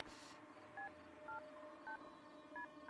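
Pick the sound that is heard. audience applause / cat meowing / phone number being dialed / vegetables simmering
phone number being dialed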